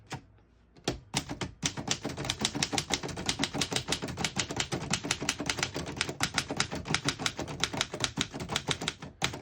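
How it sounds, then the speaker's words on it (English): Steady, rapid keystrokes clatter from a 1924 Remington Portable antique typewriter, close and loud, each key snapping crisply in an even run with no talking. "I'll type a sentence on the next line."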